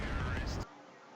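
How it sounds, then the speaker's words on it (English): A big in-game explosion in CS:GO, a loud broadband blast filling the first half-second that then cuts off abruptly into quiet, with voice activity in the mix. "Best explosion 2016."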